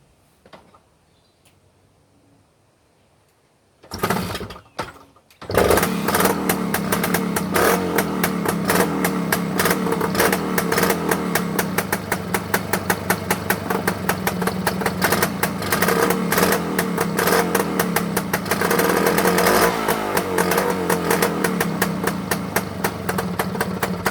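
Motorcycle engines crank and catch after a few quiet seconds, then settle into a loud, steady idle with a rapid, even exhaust pulse that runs on without pause.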